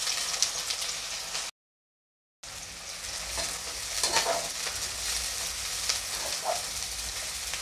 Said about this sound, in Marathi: आता मी कांदा टाकून घेते।